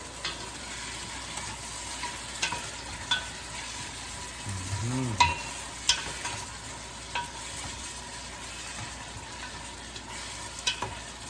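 A coconut milk and vinegar dish simmers in a pot while a spoon stirs it, giving soft bubbling and scraping with a few clinks over low steady cooking noise, close by and fairly quiet.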